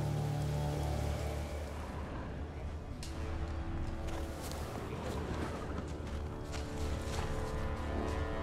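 Steady rain in The Witcher 3 video game hisses continuously under a low, constant rumble, with occasional brief brighter spatters standing out from the wash of noise.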